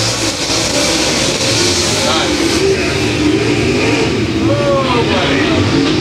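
Race car engines roar and rev around the dirt oval at Humboldt Speedway during a Friday night qualifying race, a dense steady drone with rising whines as cars pass, under a track announcer's voice.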